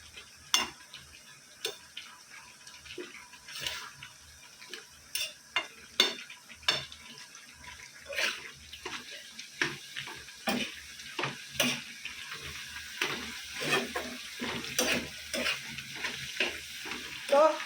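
Food stirred in a frying pan over a soft, continuous sizzle, a spoon scraping and tapping the pan in irregular, fairly loud strokes throughout, with no talking.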